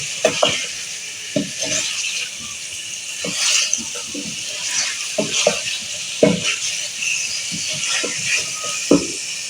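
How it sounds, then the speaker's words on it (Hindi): Chicken and tinda gourd fry with whole cumin in a pan, stirred in quick irregular scrapes and clatters over a constant hiss, close and fairly loud, with no speech. "हम इसको अब अच्छे से फ्राई करेंगे, चिकन को"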